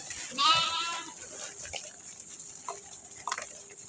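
A single sheep bleats loudly at the start, followed by quieter rustling and faint animal noises from a pen.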